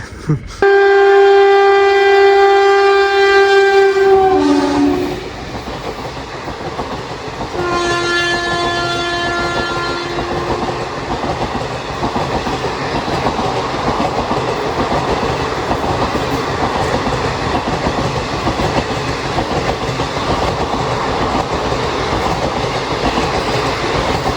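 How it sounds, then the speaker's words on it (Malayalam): The Ernad Express from Mangalore to Thiruvananthapuram blasts a loud, sustained horn, then its wagons rumble and clatter past close by in a steady rhythmic stream, with a second shorter horn blast along the way. "മംഗലാപുരത്ത് നിന്ന് തിരുവനന്തപുരം പോകുന്ന ഏറനാട് എക്സ്പ്രസ് ആണ് ഇപ്പോൾ അങ്ങോട്ട് പോയത്."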